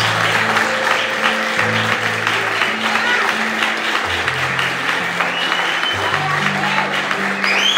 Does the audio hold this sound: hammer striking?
no